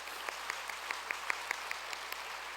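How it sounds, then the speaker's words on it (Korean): Sparse, quiet hand clapping from an audience at a church police mission gathering, with a few scattered claps repeating steadily for a couple of seconds, faint and somewhat distant. "우리 대원들 박수 한번 크게 한번"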